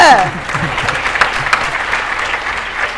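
Audience applause with cheering at a Tamil comedy debate show, a dense steady wash of clapping from a large crowd holding at a consistent level throughout.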